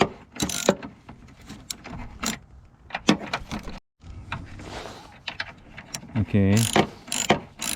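A hand ratchet clicks in quick repeated bursts while a strut bolt is removed from a 2007 Toyota Sienna, with close metallic ratcheting, a brief pause, and a short spoken word at the start.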